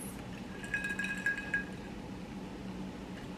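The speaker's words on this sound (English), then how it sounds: "I'm gonna go ahead and pour some Hennessy." Glass clinks as Hennessy is poured over ice in a glass, a short cluster of bright ringing taps and knocks in the middle, quiet and close, with little else around them.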